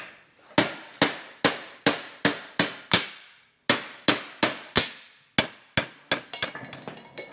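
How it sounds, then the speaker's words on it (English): Air hammer pounding on off-road Jeep axles in a workshop: loud, sharp metallic blows in a steady series of about twenty strikes with a short pause partway, then a faster rattling burst at the end. "We have an air hammer."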